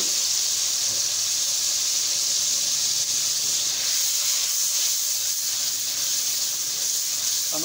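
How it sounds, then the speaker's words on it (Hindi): Ground whole spices with salt, turmeric and red chili frying in a pan, giving a steady, close, broadband sizzle and hiss that holds evenly throughout with no talking. "अब हमने इसको मसाले को 3 से 4 मिनट तक अच्छी तरह भूनना है।"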